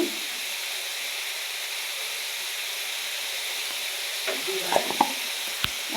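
Papaya and bottle gourd stir-fry in a pan under a steady, even hiss of sizzling, with a few spatula scrapes and knocks near the end.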